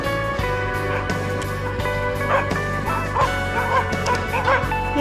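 Several dogs bark and yip repeatedly at a moderate distance on a snowy walk, an overlapping chorus of woofs with a few whimpers, loud and continuous throughout.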